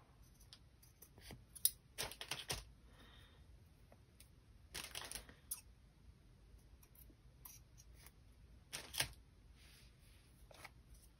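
Scissors snip fabric during a craft project with pockets and book pages, several brief crisp cuts in small bursts separated by quiet pauses, close and fairly faint.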